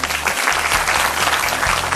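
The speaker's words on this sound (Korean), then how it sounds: "축하와 격려의 박수를 보내드립니다" Audience applause of congratulations at the finals of a national university student debate competition, a dense, steady wash of clapping from a crowd that carries at even loudness through the whole stretch.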